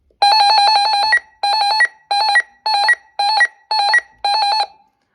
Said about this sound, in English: You get button beeps